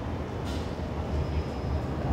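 A driverless Metro C train on the Italian metro pulls into the station with a dense low rumble and hiss that builds slightly, heard from the platform at moderate loudness.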